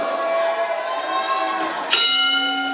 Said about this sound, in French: Merci Monsieur Snatch, la cloche est sonnée.